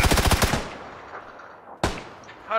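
A rapid burst of automatic gunfire in PUBG opens loud and close, then fades out and leaves a decaying tail before one more sharp shot near the end.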